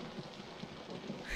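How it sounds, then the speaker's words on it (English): Thunder and rain in the horror game Outlast, a steady patter of rainfall with soft low rumbles and a louder rumble swelling at the end. "I've never been scared by thunder and lightning before"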